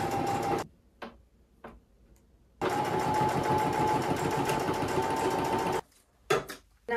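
A sewing machine stitches fabric for a thrifted clothing upcycle, whirring in fast rhythmic bursts up close, with short stop-start runs and quiet gaps before a long continuous stretch of stitching.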